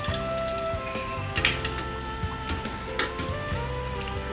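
A sabudana tart sizzles in hot oil inside a bowl mould, a steady crackling fry with scattered pops, heard close and alone.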